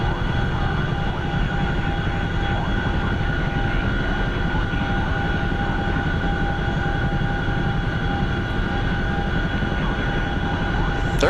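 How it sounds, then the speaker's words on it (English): Bomber aircraft drone overhead in a combat video game, a steady, loud, heavy engine roar with sustained tonal hum that continues unbroken throughout. "Oh, those are the bombers."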